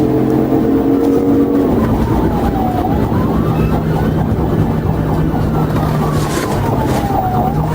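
A police car siren wails in rising and falling sweeps over loud road and engine noise during a high-speed pursuit, close and continuous.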